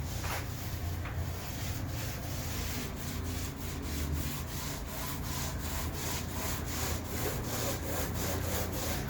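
A paint roller is pushed across marmorino-type plaster to form a white sandstone texture on a balcony wall, producing loud, rhythmic scraping strokes that repeat at a quick, even pace.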